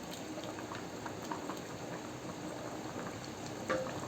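Bottle gourd pulusu curry simmers in a pot with a soft, constant bubbling and faint popping, quiet and even throughout.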